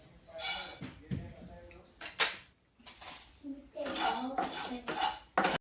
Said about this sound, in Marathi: तांदूळ लालसर भाजून घेते